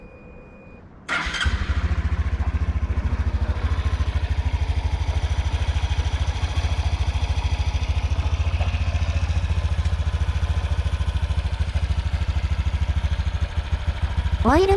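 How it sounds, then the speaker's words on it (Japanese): A Honda Hunter Cub motorcycle engine with fitted cooling fins starts after a brief quiet moment and settles into a steady, close, loud idle with a rapid low putter. "エンジンをかけて"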